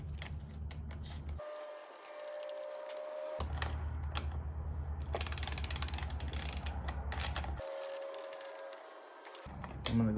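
Ratchet clicking in rapid bursts while tightening bolts on a Harley-Davidson Sportster carburetor, two close, steady runs of dense ticking separated by brief pauses, with a faint mechanical hum beneath.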